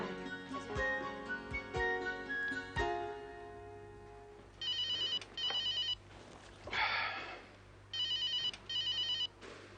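A telephone rings in a home in a Hindi TV drama, with repeated electronic ringtone bursts alternating with short pauses, fairly quiet, over faint background music and no talk.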